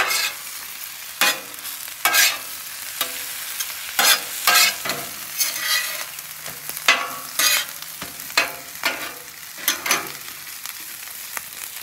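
Tomatoes and spinach cook in a hot pan for a breakfast vegetable scramble, a soft steady sizzle broken by sharp, repeated scraping bursts of stirring, close and loud, with no talking.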